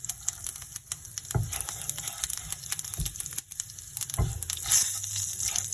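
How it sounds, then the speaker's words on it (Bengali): Panch phoron spices crackle and sizzle in hot oil for a lau dal, a close, busy spatter of pops with a few sharper knocks from a utensil against the pan. "পাঁচফোড়ন দিলাম।"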